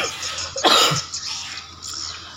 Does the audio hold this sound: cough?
yes